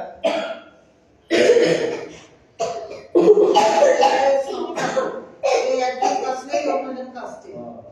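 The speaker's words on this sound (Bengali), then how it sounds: "এত কাশি হচ্ছে সব?" Repeated coughing bursts during a yoga class, loud and close, coming in several separate fits with short pauses between them.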